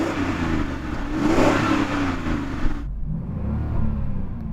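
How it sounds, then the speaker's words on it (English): A car's W12 engine is revved hard at a drag race, with a loud, close, throaty roar that climbs and holds before the throttle drops off sharply, then settles into a lower, rumbling idle. "can you rev up your car and let us hear its W12 engine?"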